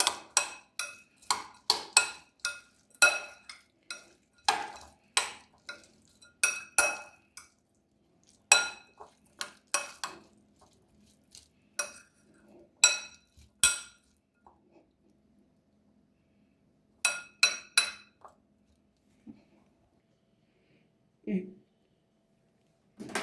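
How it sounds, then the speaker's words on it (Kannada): Spoon scraping and clinking against a bowl while poha is mixed with oil for microwave upma, a rhythmic series of sharp taps that pause midway, then resume and end with a soft thud. "ಈಗ ನೀಟಾಗಿ ಆಯಿಲ್ ಹಾಕಿದ ಮೇಲೆ ನೀಟಾಗಿ ಮಿಕ್ಸ್ ಮಾಡ್ಕೋಬೇಕು"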